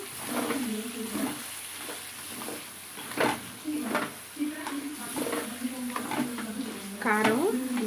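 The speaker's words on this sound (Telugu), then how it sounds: "చూడండి మొత్తం ఫ్రై అవుతూనే ఉంది" Country chicken pieces fry in a pan, a steady low sizzle broken by stirring scrapes and clinks, with a voice speaking over the cooking throughout.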